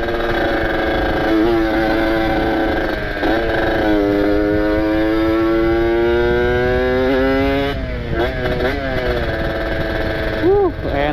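Ported two-stroke Kawasaki Ninja motorcycle being ridden, its engine droning loud and close with rising and falling revs and shifts, buzzy harmonics over wind noise throughout.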